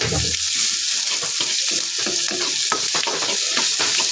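Biryani spices sizzle and fry in a hot wok, with a steady loud hiss and repeated stirring scrapes throughout.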